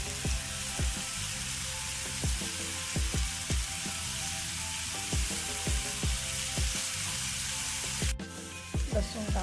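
Green chillies sizzle and spit in hot oil in a pan for a fish curry, a steady close frying hiss broken by regular stirring scrapes and knocks, with no voices over it.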